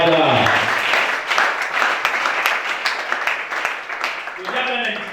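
A church congregation at a worship service claps and applauds steadily for several seconds, with voices and cheering mixed through the crowd noise and swelling briefly near the end.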